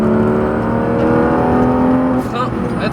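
A Porsche 991 GT3 RS accelerates on the La Ferté circuit, its engine a loud steady high-revving drone heard from inside the car, dipping briefly near the end as a voice talks over it.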